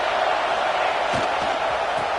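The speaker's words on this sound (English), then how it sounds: "This crowd bringing the energy and noise early." A football stadium crowd sends up a broad, steady roar of many voices that sounds distant and dense, with no single voice standing out above the noise.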